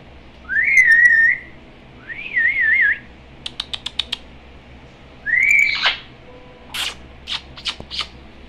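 Bright, warbling parrot whistles in three separate phrases, with sharp clicking taps in between and a quick burst of chirps at the end.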